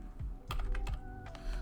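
Fast, close typing on a computer keyboard while writing Python code, a quick run of light key clicks with short pauses between them.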